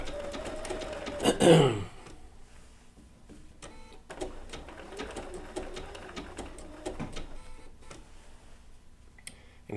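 A Bernina B790 PRO sewing machine with a 20C open toe foot stitches wool appliqué in short, intermittent bursts of rapid ticking, fairly quiet, with a brief nearby vocal sound near the start and a word spoken.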